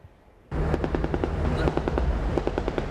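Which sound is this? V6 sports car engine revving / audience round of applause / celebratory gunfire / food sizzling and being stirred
celebratory gunfire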